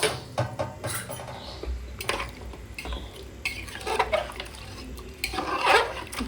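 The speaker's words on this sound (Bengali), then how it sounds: "এবার একটু নাড়াচাড়া করে দেবো" A spoon scrapes and clinks in a wok as a meat and potato curry simmering in water is stirred, with a soft liquid slosh and irregular metallic knocks.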